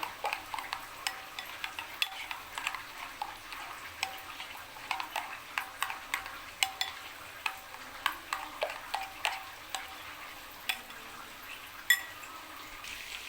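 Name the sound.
stir-frying mutton with yogurt for daal gosht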